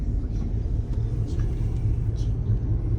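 A car coasting in neutral on a road near Madina, Saudi Arabia, gives a steady low rumble of tyres and wind with no engine revving, heard from inside the vehicle.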